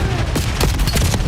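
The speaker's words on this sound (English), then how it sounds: "Starting things off with a Halo gunfire" Rapid gunfire from a Halo gun in a Call of Duty match, a dense burst of sharp, loud repeated shots crackling close by for just over a second.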